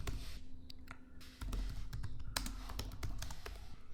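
Fingers type an email on a computer keyboard in quick, uneven bursts of close, light key clicks over quiet room noise.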